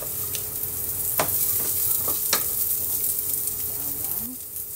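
Onions frying in a little cooking oil for salmon sinigang, a steady loud sizzle with a few sharp stirring clicks and scrapes throughout, no talking.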